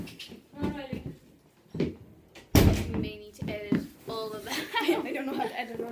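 Door slamming once with a sharp, loud thud amid indoor chatter and giggling, voices talking before and after the bang.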